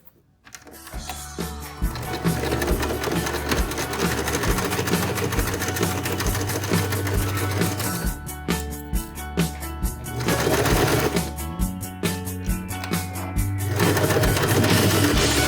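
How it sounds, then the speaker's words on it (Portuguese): A domestic sewing machine fitted with a zipper foot stitches fabric for a cloth wallet, running in long, steady, loud bursts with short pauses between them. "aqui, eu troquei também o pezinho da máquina para o pezinho de zíper"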